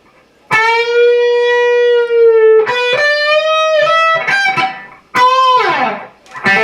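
A solo electric guitar plays the closing measure of a solo: singing sustained notes with bends and a closing slide downward, clean-toned and upfront with no other instruments.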